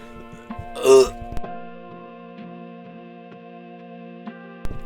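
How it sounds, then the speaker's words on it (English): A single short cough bursts out near the start, followed by a low steady hum and faint clicks. "Sorry, had to cough for a bit."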